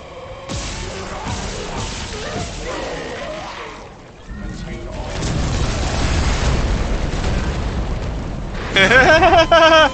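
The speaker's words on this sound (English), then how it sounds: "the explosion doesn't have nearly that big of a blast" Explosion in the video game Dead Space (2023) erupts as a deep rumbling blast that swells and lingers, followed by a harsh electronic alarm tone, with game sounds and a player's voice around it.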